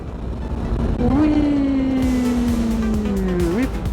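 A Suzuki DR 250 motorcycle being ridden, the engine droning steadily and close with a rising then slowly falling pitch, wind noise throughout and a brief shift in tone near the end.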